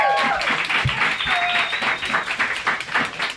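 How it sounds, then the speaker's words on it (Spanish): Applause from a studio audience at a podcast recording about puppetry and childhood, brisk clapping with a faint voice and some tonal sounds underneath, fairly close and moderately loud. "a quien pido un aplauso"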